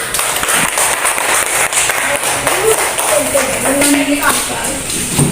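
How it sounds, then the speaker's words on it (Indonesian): Primary school pupils clap in a classroom, uneven hand claps spread across the room while voices and chatter carry on over them. "Tepuk tangan lagi."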